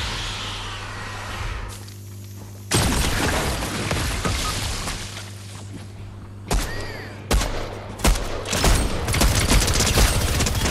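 A Fortnite player's own explosive goes off beside him: sudden broadband blasts and booms, then a burst of rapid gunfire-like bangs, loud and close over in-game ambience, with no talking.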